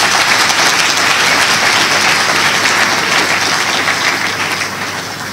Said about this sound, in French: Merci d'applaudir pour cette jeunesse qui ne s'est pas résignée.